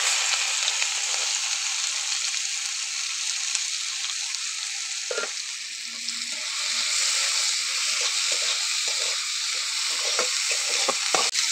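Chopped onions frying in hot oil in a pan for a Bengali-style bhindi curry, a loud, steady sizzle with the scrape of stirring at intervals, close and uninterrupted by speech.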